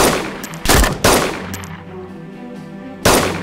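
Loud bursts of rapid gunfire in the video game DayZ Standalone, close by, with a short rattling volley at the start and another at the end, separated by a fading echo.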